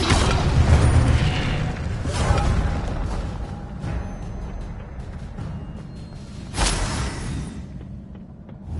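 A fire spell cast in the Hogwarts Legacy video game bursts out with a loud whooshing boom, rumbling on and fading, followed by a second sharp surge of roaring flame later on, with no voices.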